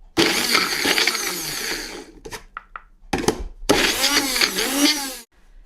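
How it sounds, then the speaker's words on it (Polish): A kitchen blender pulses to chop tomatoes, giving several short loud whirring bursts with brief gaps between them, close up and free of talk. "Kilkoma pulsacyjnymi ruchami rozdrobnimy pomidorki na tyle"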